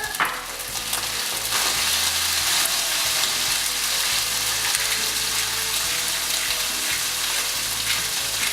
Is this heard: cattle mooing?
no